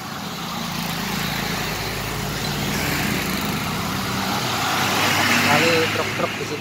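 Trucks and buses rumbling along the Pantura road near a terminal, a continuous broad engine roar and road noise that swells slightly toward the end, heard from a passing motorcycle.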